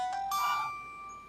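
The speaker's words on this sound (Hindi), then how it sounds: "किसका फोन है?" A mobile phone ringtone plays a short electronic melody of steady, bright tones that ring on and then fade, heard at close range with no talking.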